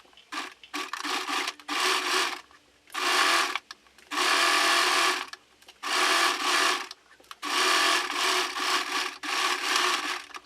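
A sewing machine stitches coat sleeves closed in several bursts of steady whirring, close and moderately loud, separated by short pauses, with no talking.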